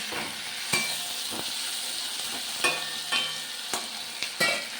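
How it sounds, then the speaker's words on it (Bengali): Onion, potato and capsicum fry with nigella seeds and green chilli in hot oil, a loud, steady sizzle close up, broken by sharp scraping strikes of a spatula stirring every second or so. "কাঁচা লঙ্কা কালো জিরে ফোড়ন দিয়ে পেঁয়াজ আলু ক্যাপসিকাম দিয়ে ভাজছি"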